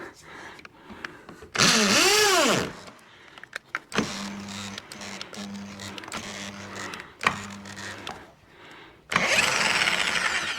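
An overworked electric drill, smoking while used on a fence post repair, whines up and down in pitch, then settles into a stuttering, pulsing motor drone before another loud run.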